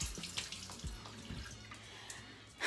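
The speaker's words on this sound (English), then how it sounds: "I need to wash my hands." Hands being washed under a running tap in a sink, a steady moderate water flow with splashing and low gurgles, close and with no talking, before a brief louder burst at the end.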